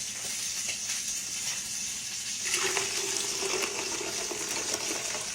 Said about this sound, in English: And then you just pour your tea, this hot tea, over that ice.